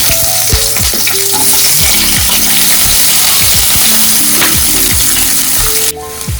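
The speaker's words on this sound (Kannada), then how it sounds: "ಫ್ರೈ ಮಾಡೋಕ್ಕೆ ಎಣ್ಣೆ ಹಾಕೋದಿದ್ದೀನಿ. ಈರುಳ್ಳಿ ಹಾಕೋತಾ ಇದ್ದೀನಿ." Onions fry in oil for a mutton curry with a loud, close, continuous sizzle and repeated scraping stirs of a utensil in the pan.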